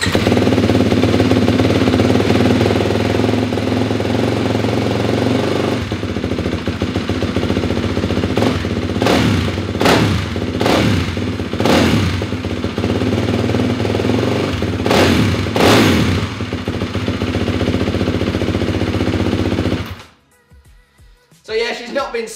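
A 2021 Kawasaki KX 450 F dirt bike engine runs loud and close, idling steadily and then revving in several sharp throttle blips before cutting off abruptly near the end.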